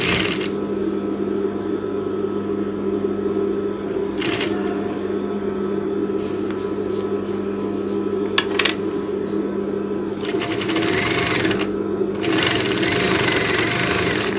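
A sewing machine stitches a zipper onto a leather sleeve of a jacket, running in a steady close-up whir with brief pauses and a few sharp clicks and taps between bursts, no talking.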